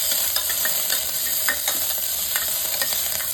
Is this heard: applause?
no